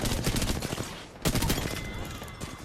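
Gunfire in the Apex Legends video game: rapid bursts of automatic shots in quick rhythm, a short pause, then another dense volley, loud and close.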